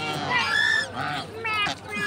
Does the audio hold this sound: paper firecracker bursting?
no